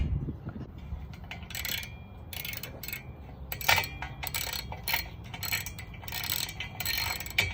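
A ratchet works bolts loose on the rear wheel hub of a 2016–2022 Honda HR-V, with rapid, close clicking bursts repeating over a low background rumble.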